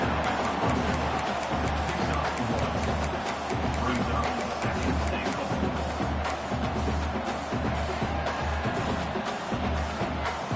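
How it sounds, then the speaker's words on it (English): Dense, steady stadium crowd roar from a college football video game, a continuous loud wash of many voices filling the whole stretch with no break, as a team faces first and goal near the end zone. "Now they have to deal with some serious crowd noise as they try to punch it in on 1st and goal."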